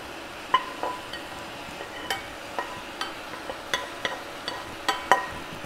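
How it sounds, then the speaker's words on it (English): Vegan shrimp being stir-fried with rice in a pan, a soft steady sizzle under a series of sharp utensil scrapes and clinks against the pan at irregular intervals, close and moderately quiet. "incorporate my shrimp into this so that they can begin to cook together"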